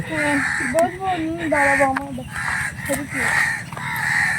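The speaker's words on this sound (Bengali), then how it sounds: "সকালবেলা পাখির কলকাকলি" Morning birdsong in a village garden, with crows cawing in repeated bursts close by and fowl calling, loud and continuous throughout.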